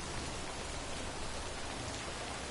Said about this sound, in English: I'm just gonna assume it's raining all the time.